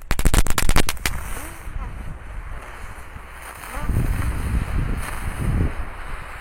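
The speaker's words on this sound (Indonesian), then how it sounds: "Ngabuburit menyalakan mercon gangsing." Spinning firecrackers (mercon gangsing), two packs lit at once, go off outdoors: a quick burst of sharp cracks opens, then a sustained hissing, fizzing roar with rough low rumbles swelling again toward the end.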